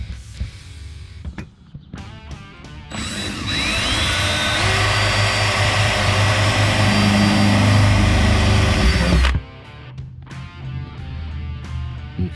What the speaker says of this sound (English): I'm going to be drilling a pilot hole, and then I'm going to be using a 3/8 drill bit for the rib nut